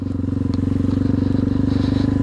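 A Yamaha TW200 motorcycle engine thumps in a steady, rapid low pulse while riding, loud and close with a faint rattle on top.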